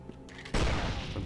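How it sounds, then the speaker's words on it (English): Giant hand cannon firing in the Torchlight 2 video game: a sudden loud booming blast that ends in a rolling, rumbling explosion, preceded by quieter game sounds. "It is literally a giant cannon."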